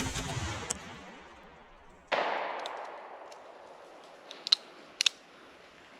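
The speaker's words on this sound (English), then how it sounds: "So let's go cowboy with the good old Colt Python. Oh, iconic 357 Magnum." A Colt Python .357 Magnum revolver fires at a brick wall: a loud report at the start and another sharp boom about two seconds later, each trailing into a long echoing decay, followed by a few faint metallic clicks.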